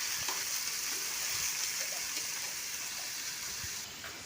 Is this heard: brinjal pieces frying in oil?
yes